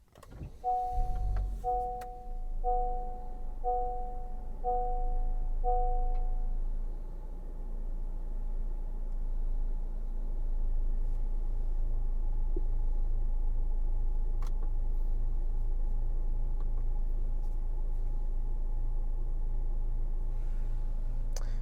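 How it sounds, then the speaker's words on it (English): A 2023 Honda HR-V EX-L is started with its push button inside the cabin. A short run of dash chimes comes first, then the engine catches and settles into a steady, low idle hum. "Start up the vehicle, push button start."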